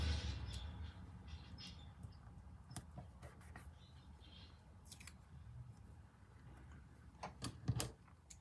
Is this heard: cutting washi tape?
yes